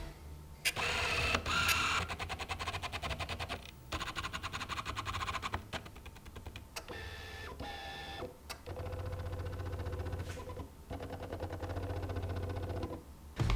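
Yongnuo and Canon 50mm f/1.8 STM lenses hunt with autofocus, giving quiet bursts of whirring motor buzz and small clicks in repeated short runs with brief pauses between them.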